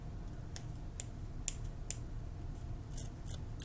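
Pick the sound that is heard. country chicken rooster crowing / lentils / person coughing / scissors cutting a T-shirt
scissors cutting a T-shirt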